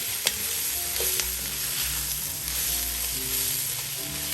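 Pasta shells toasting in a pan give a steady, even sizzle close by, with a couple of faint clicks of a utensil and no talking.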